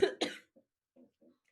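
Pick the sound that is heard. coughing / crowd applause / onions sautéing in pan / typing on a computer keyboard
coughing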